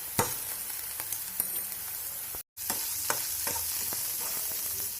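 Ginger garlic paste sizzles and fries with softened onions in a pan, producing a steady close hiss. Spoon scrapes tap at intervals, and a brief dropout cuts the sound partway through.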